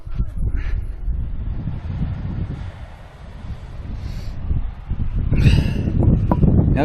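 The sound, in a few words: strong wind at the beach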